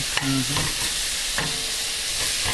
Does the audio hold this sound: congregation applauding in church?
no